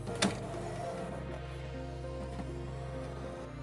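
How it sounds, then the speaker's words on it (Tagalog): A steady mechanical hum with a low motor drone and a brief click near the start, an HP Officejet 7440 inkjet printer whirring through a self-maintenance cycle. "printer maintenance is in progress, so do not interrupt"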